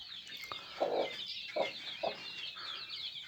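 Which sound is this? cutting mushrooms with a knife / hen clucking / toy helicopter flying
hen clucking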